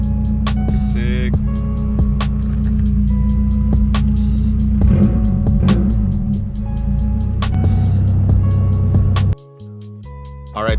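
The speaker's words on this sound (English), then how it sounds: "All right, the car's running good." A car's engine runs after a motor-mount repair, holding a steady, loud idle rumble with scattered clicks and knocks, then dropping off abruptly near the end.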